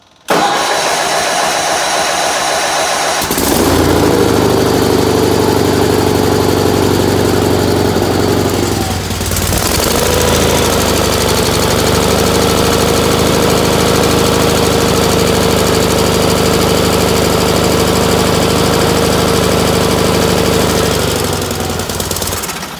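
An old engine being prepared for a plow day cranks, catches and starts, then runs loud and close at a steady throttle for about twenty seconds before shutting off, with no talk.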